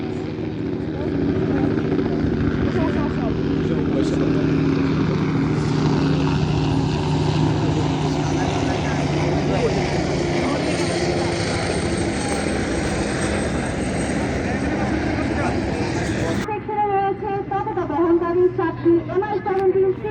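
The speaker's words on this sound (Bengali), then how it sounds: "হেলিকপ্টারের সমন্বয়ে একটি লাইন অ্যাকশন ফরমেশন" Military helicopters fly in line-abreast formation over the National Parade Ground during Bangladesh's 54th Victory Day parade, a loud, sustained rotor and engine drone that shifts near the end, with a commentator's voice over it.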